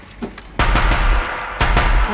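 Two heavy bursts of machine gun fire in a PS4 video game, loud and booming, each lasting about a second, with a quieter stretch before them.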